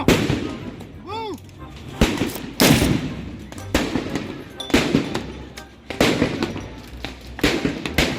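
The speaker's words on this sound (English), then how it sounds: "Ambush from behind a tree with fireworks." Fireworks explode at an outdoor protest, several sharp loud bangs and crackling bursts in irregular succession, one whistling rocket rising, over crowd noise.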